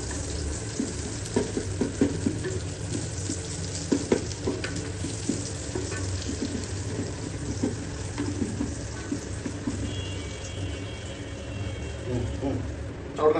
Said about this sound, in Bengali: তারপর পেঁয়াজ। ওকে, এটা একটু ভাজ।